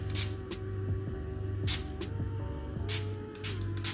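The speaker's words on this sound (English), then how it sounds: "So we're just told to spray the alcohol on top to get rid of the air bubbles." Alcohol spritzed from a spray bottle, several short hissing bursts at an uneven pace over a steady low hum, close and fairly loud.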